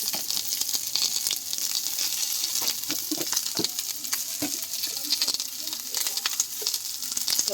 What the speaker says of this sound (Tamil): பட்டை சோம்பு பொடி எல்லாத்தையும் வதக்கணும்